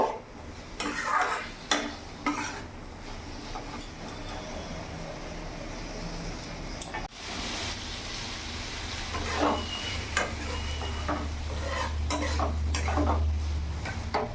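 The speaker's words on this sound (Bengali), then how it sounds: "আমি ভালো করে নাড়াচাড়া করে একটু ভেজে নেব, যাতে মশলার সাথে চিংড়ি মাছ ভালো করে মশলার সাথে একটু কষিয়ে নেব" Shrimp with spices frying in a pan for a banana blossom and shrimp dish, a continuous close sizzle broken by repeated scraping and clinking stirs of a spoon against the pan.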